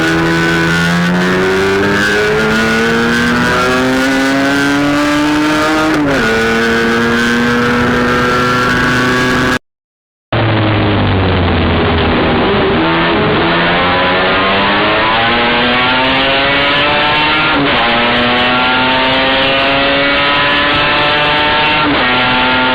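Mazda R100 with a 13B rotary engine and gearbox running loud and close, two revving passes with rising and falling engine pitch, split by a brief silent gap, no talking.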